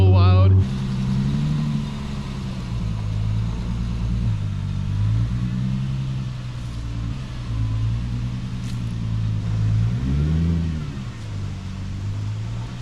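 A Nissan 350Z engine while driving, a low, steady rumble heard from inside the car with gentle rises in revs, close and continuous, with a voice talking over it.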